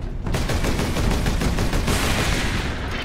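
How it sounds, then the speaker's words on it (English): Missile launcher firing in the video game Warhammer 40K: Space Marine, a dense, loud barrage of rapid explosive blasts and bangs rolling continuously with no pause. "Missile launcher."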